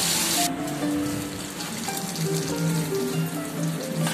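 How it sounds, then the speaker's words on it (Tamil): Sardines fry in a pan of oil, giving a steady, close crackling sizzle like light rain that holds evenly throughout. "Simple fish fry."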